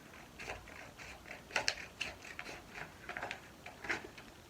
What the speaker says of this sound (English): with your scissors, you follow that long line you did